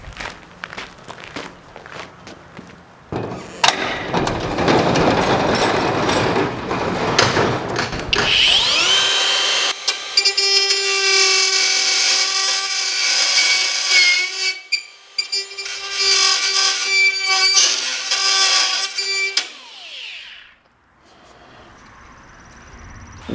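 A 25,000 RPM rotary power tool cuts into a metal roll-up door slot, giving a loud, close, high-pitched whine that holds for several seconds, dips and resumes, then winds down.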